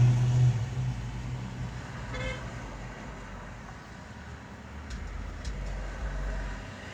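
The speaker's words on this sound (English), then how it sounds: "why did this car has circled this street 3 times now" A car on a residential street, heard as a steady low road rumble and engine drone that swells and eases over several seconds, fairly close, with no talk.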